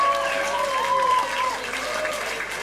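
A concert crowd at a jam session claps steadily and cheers, a dense wall of applause with voices and whoops rising through it from start to finish.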